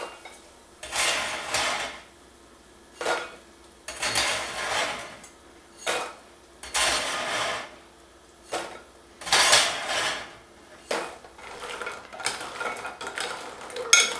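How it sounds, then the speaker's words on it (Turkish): Fried lokma dough balls stirred in syrup in a metal pan, with repeated bursts of clattering and scraping spaced a second or two apart, fairly close and alone. "şerbeti tamamen çekmesi için karıştırıyorum"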